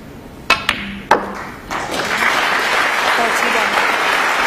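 A few sharp snooker ball clicks at a 2014 Welsh Open quarter-final match between Ronnie O'Sullivan and John Higgins give way to rising crowd applause that builds into a steady, dense clapping.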